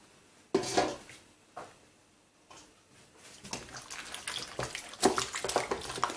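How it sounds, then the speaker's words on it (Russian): A towel is dunked and wrung in water to scrub tea and coffee stains from an apron, giving intermittent close splashes and sloshing bursts with quiet gaps between them. "Намочили в воде полотенечко."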